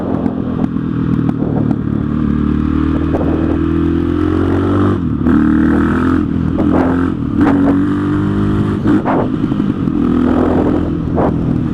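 A KTM 660 SMC single-cylinder motorcycle on the road, its deep exhaust note droning steadily up close with rising revs, gear-change dips and rattly clatter throughout.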